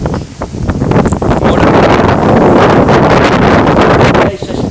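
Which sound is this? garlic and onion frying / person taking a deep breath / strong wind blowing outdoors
strong wind blowing outdoors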